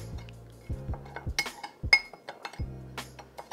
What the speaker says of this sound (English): we're gonna get in there with the spoon and give that a mix